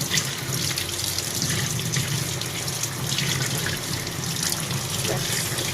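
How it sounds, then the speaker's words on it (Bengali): Running tap water pours steadily over bottle gourds being rinsed in a kitchen sink, a continuous close rush with small splashes and shifts in the flow throughout. "এখন লাউগুলো ধুয়ে নিচ্ছি"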